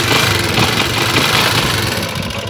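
A kick-started motorcycle fitted with an anti-theft setup runs at a steady, loud, close idle, its buzzing engine drone continuous throughout with no voices.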